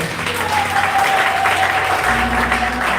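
A church congregation applauds and cheers Jesus Christ in a dense, sustained wash of clapping, loud and close, with a steady tone held beneath it.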